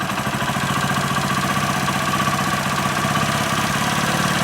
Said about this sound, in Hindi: इसके आइडलिंग स्पीड को थोड़ा सा हम लोग इंक्रीज कर लेंगे ताकि जब हम लोग सेटिंग करें तो इंजन बंद ना हो